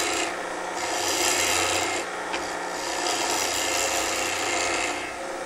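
A wooden pen blank spins on a mandrel lathe as a turning tool, bevel down on the tool rest, works it down: a continuous close, loud scraping rasp with the motor's steady hum, swelling in strokes.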